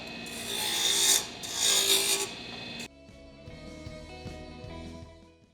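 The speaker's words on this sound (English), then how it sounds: "simply by turning the lathe on, facing the direction I want to go, and I can turn the tool one way and I can come back the other" A turning tool cuts a wood spindle on a running lathe, giving a steady rasping scrape in two loud bursts. The cutting then stops and leaves the quieter hum and rattle of the lathe still spinning.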